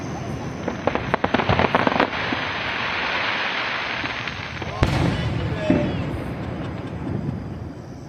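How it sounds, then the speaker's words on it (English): Fourth of July fireworks booming outdoors during a thunderstorm, a burst of crackling pops early then a sharp bang midway over a steady rumbling wash, with a faint whistle and people talking quietly nearby. "and then more fireworks."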